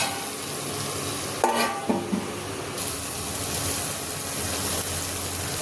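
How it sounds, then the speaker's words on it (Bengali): A spice paste fries in a pan over a medium-low gas flame, giving a continuous sizzle. A few sharp stirring clatters and scrapes sound near the middle, and nobody speaks. "গ্যাসের ফ্লেমটা মিডিয়ামে লোতে করে ভালো করে মশলাটা ভেজে নেব।"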